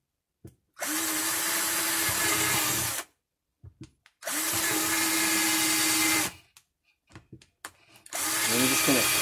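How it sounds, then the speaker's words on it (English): A power drill bores a starter hole into the body of a 12-volt fridge-freezer, whining loudly and steadily in three long bursts separated by short pauses and small clicks. "I'm just going to use my drill like a saw to get that started."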